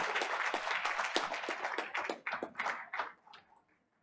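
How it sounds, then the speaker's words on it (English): Applause for school award recipients at an education board meeting, a dense burst of indoor clapping that thins into a few scattered claps and fades out within a few seconds. "Let's give them another round of applause"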